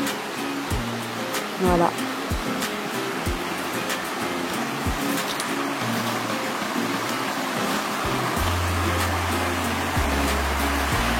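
Water flowing steadily at a riverbank, a continuous broadband rush, with someone speaking briefly over it and low engine-like hums and knocks nearby.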